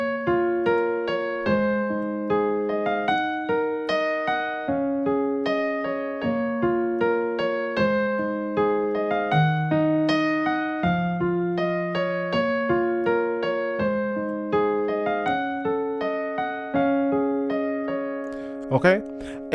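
Solo piano plays the first three parts of a song at a slow tempo, steady chords and melody notes struck in an even rhythm, close and clear, with a short burst of noise at the very end.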